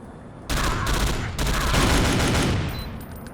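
Assault rifle gunfire in the first-person shooter Iron Storm, a loud, sustained stream of rapid shots with a brief gap after the first burst, then continuing before trailing off, no talking.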